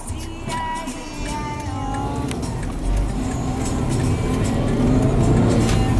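A car engine hums and builds under road noise from inside the cabin as the driver shifts gears on a long drive to the seaside, with engine tones rising and falling between shifts and growing louder toward the end.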